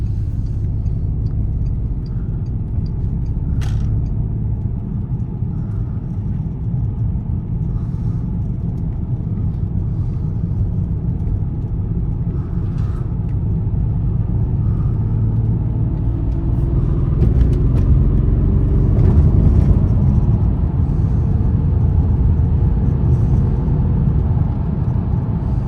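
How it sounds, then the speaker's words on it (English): A Bentley Flying Spur's 6-liter W12 twin-turbo engine hums low and steady while driving, with road noise underneath and a gentle rise in pitch as it accelerates. "This Bentley is powered by the 6-liter W12 twin turbo engine"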